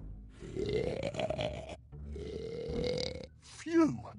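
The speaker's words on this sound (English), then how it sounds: "But boy, does he snore." An enormous cartoon elephant seal snores with two long, deep rumbling breaths, followed by a short rising snort. The snoring is close and loud.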